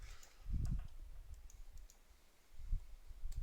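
Quiet, sparse clicks of a computer mouse sound at a desk, with a couple of soft low knocks between them.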